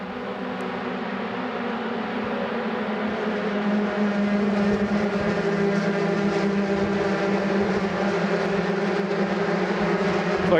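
A pack of race cars roars away at the green flag start of a race at Carolina Motorsports Park, the engines a loud, dense, sustained drone that builds steadily and overlaps with no break.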